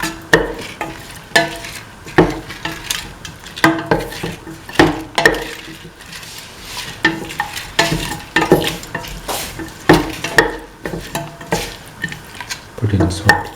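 A spoon scrapes and clinks repeatedly against a pan while mint chicken coconut milk stew sizzles and bubbles, with steady irregular stirring strokes up close and brief talk in the background.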